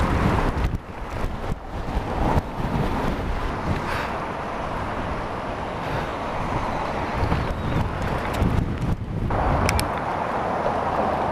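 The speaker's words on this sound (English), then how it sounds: "Il y a beaucoup de vent aujourd'hui." A strong headwind buffets the microphone while cycling through Paris near a roundabout: loud, gusty, rumbling wind noise with irregular thumps throughout, and faint traffic underneath.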